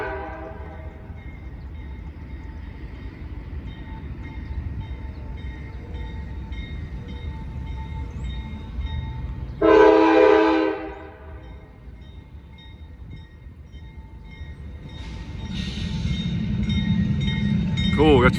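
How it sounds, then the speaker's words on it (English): An Indiana & Ohio Railway train with three locomotives passes at a rural crossing: a steady rumble runs throughout, a loud horn blast sounds around the middle, and a second fainter horn comes near the end. "Cool, got some awesome looking locomotives here, 3 of them."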